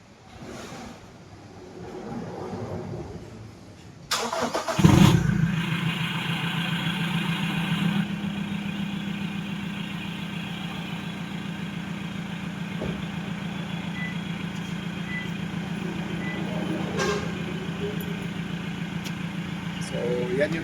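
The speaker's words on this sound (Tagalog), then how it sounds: "So, yan yung tunog ng cold start to boss." A Toyota Hilux pickup engine with a newly welded downpipe cold-starts with a sharp crank and catch, then settles into a steady, loud, throaty idle close by.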